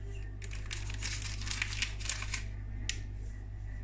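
A packet of baking powder is torn open and emptied into cake batter, making soft crinkling and rustling with a few sharper crackles, close but quiet over a steady low hum.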